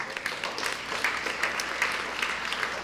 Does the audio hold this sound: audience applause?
yes